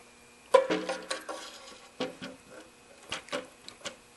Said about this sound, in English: So we just lay the manifold in place.